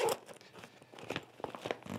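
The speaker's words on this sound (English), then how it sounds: "If we open up the main compartment," The main compartment of a Leatt 2.0 DBX Enduro Lite hydration backpack with waterproof zippers is pulled open, giving close, quiet bursts of crinkling and rasping fabric with uneven scratchy tearing sounds.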